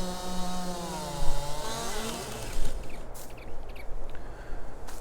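Chainsaw engine in the video game Farming Simulator 22, revving and dropping in pitch as it runs, a loud buzzing drone with rough mechanical noise throughout and no talking.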